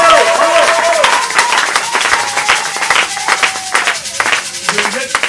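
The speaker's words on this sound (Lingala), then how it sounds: "Est-ce qu'on peut acclamer bien le Seigneur?" A church congregation applauds to acclaim the Lord, with dense rapid clapping running steadily throughout, mixed with voices and sustained tonal sounds.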